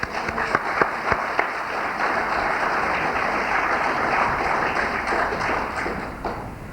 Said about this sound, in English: join me in recognizing the effectiveness of that group in North America by a round of applause